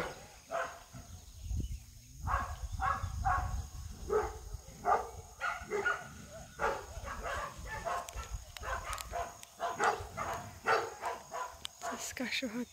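Dogs bark repeatedly in short bursts, with some yips, mixed with people talking nearby; the barking comes and goes throughout.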